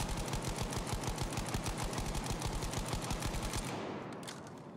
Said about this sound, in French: je vise, je tire et je fais des petits resets de full